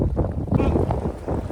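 Strong wind buffets a small fishing boat out on the water, a steady rushing roar with gusty swells close to the microphone.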